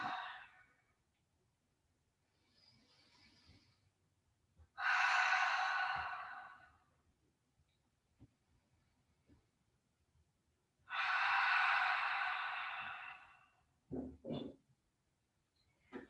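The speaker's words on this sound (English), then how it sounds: "on the exhale, open the mouth and really exhale" Deep open-mouth exhales during a yoga stretch: two long, breathy sighs of about two seconds each, close and clear in a quiet room, separated by soft breathing, with a few short breaths near the end.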